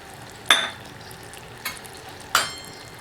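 Sugar syrup for boondi laddu, with cardamom powder and a little ghee, is stirred in a pan: three distinct spoon strokes scrape and clink over a quiet, low bubbling background.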